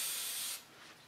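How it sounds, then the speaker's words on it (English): Hairspray from an aerosol can is sprayed onto hair in one close, steady hiss that stops abruptly after about half a second and leaves a faint trailing hiss. "I'm going to spray you again."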